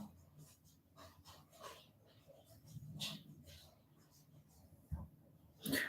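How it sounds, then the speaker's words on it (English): Dogs eating dinner indoors, with soft snuffling, lapping and chewing noises close to the microphone and a couple of louder clatters near the end. "My dogs are having dinner."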